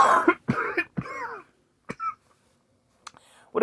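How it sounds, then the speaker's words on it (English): Someone with a lingering, month-long cough coughs several times in a quick burst, then clears the throat, then gives a few more isolated coughs after a pause, close and fairly loud with no talking. "I've had an on again, off again cough for a month."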